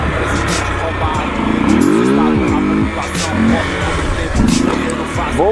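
A motorcycle revs hard during wheelie practice, its engine loud and close, pitch climbing and falling in repeated surges, with voices talking over it.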